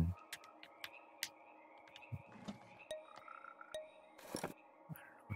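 Cartoonish frog croaks from the puzzle game GNOG: several short, bright croaks and clicks spaced irregularly over a quiet, sparse background, fairly faint overall.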